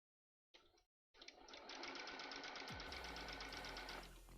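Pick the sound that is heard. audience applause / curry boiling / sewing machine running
sewing machine running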